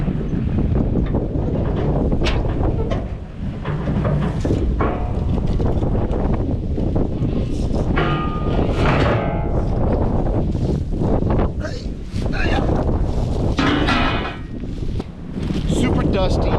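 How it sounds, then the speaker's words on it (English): A windstorm with gusts around 80 mph roars constantly in loud buffeting rushes against the microphone, with bursts of rattling and clatter on a dusty outdoor work site. "We've had a pretty crazy windstorm today."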